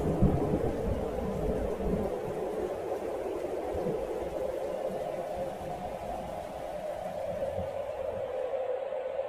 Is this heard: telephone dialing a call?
no